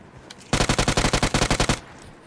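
Rapid automatic gunfire in the mobile battle royale game BGMI: a loud burst of about a dozen evenly spaced shots lasting just over a second, with a faint single crack before it and quiet afterward.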